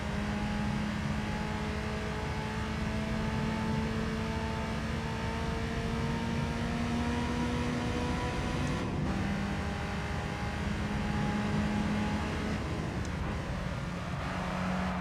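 A racing car engine in Gran Turismo 3 drones steadily and loudly for the whole stretch, with sustained tones that rise and shift through gear changes and no talking over it.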